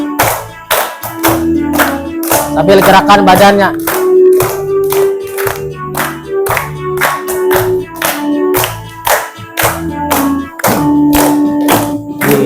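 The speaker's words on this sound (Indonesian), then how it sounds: "Tepuk tangan." A group claps hands in steady rhythmic patterns during an ice-breaking game in a teacher-training class. The claps are loud and repeated throughout, with singing voices and talk alongside.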